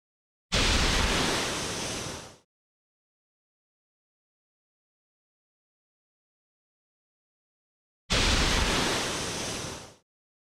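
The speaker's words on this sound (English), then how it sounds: "It sounds like a splash at the end." Two separate bursts of broadband whooshing water in the video game Monarky, each about two seconds long with a sharp onset and a fading tail. They read as splashes of something breaching the surface, with silence between them.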